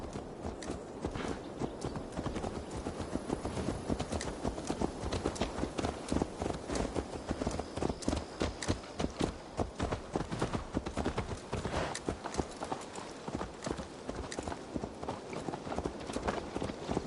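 Horse hooves clip-clop steadily and loudly close by in the Assassin's Creed video game, a continuous brisk rhythm of hoofbeats across the whole stretch.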